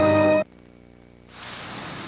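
Rain falls steadily as a dense, even hiss that swells in after a brief burst of tonal sound and a quieter humming gap.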